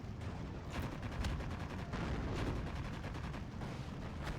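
Steady barrage of gunfire and artillery from a Steel Division 2 battle, with dense overlapping shots and booms rolling continuously at a constant loud level with no pauses.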